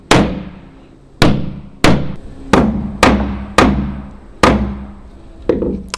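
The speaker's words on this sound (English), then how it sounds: "and just hammer them in." A hammer drives popped nails back into a wooden deck with seven loud, sharp strikes at a steady, slightly uneven pace, each blow ringing briefly before the next.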